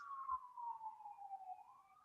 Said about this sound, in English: You see you hear the police cars?